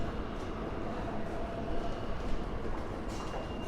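Inside the 5th Avenue subway station on New York City's number 7 line, a steady rumble of trains and station noise fills the air, with no clear voices.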